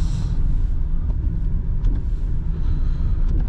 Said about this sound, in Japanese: で普通の県道も走行してみます。